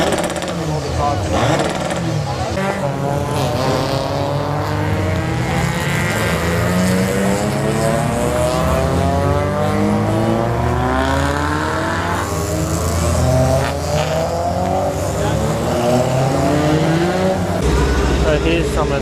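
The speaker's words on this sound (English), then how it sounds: "Here's a look at some of the cars that are racing in the Supersports category" Supersports open-wheel prototype race cars racing at Sydney Motorsport Park roar close by, engines revving continuously with pitch climbing and dropping through gear changes.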